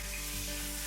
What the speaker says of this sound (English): It's okay if it starts to sizzle.